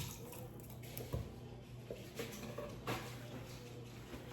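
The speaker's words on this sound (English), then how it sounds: "let me rinse my hands" Hands rinsed under a running kitchen tap while keto mini cheesecake bites are being made, a steady close water flow with small splashes and drips throughout.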